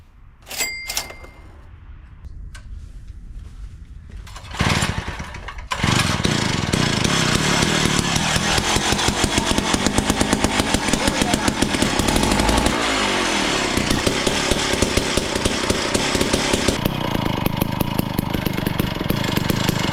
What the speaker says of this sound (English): Let me give this thing a few pulls and we'll see if it starts up.